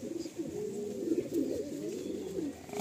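Pigeons coo in a steady, throaty murmur nearby in a loft at Garia while a restless pigeon is handled, soft rustles faintly beneath the continuous cooing.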